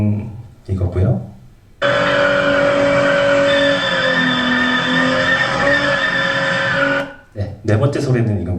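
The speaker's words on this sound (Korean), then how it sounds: "모두 다 이제 자동차, 차량에서 나는 소리인데" Race car skidding, a loud steady engine roar with strong tonal bands held for about five seconds, framed by brief speech-like bursts before and after.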